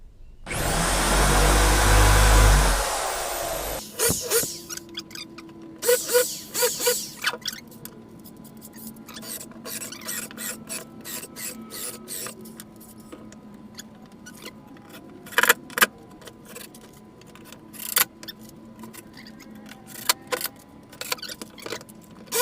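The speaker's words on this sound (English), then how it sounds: "So now I'm going to put pilot holes in." A power drill bores pilot holes into recycled pallet wood, beginning with a loud steady whirring burst, followed by scattered clicks, taps and clattering from handling the boards nearby.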